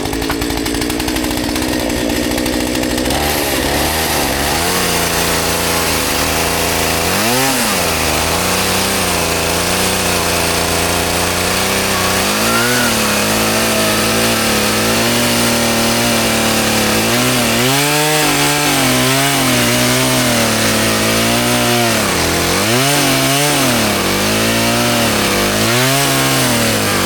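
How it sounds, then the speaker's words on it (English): A chainsaw cuts out the transom of a Champion boat, its engine droning steadily throughout and revving up in repeated surges as the blade bites into the wood, loud and close with no talking. "If you don't know how to use a chainsaw, don't even be doing this crap."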